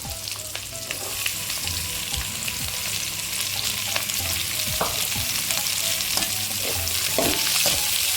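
Radish sautés in a pan for chutney with a loud, constant frying hiss, while stirring adds irregular scrapes and taps close by.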